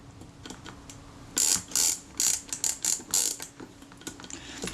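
Film advance mechanism of a Kodak Retina II camera with a faulty, locked advance and sprocket wheel, giving a quick run of dry ratcheting clicks and rasps, close up and alone against a quiet background.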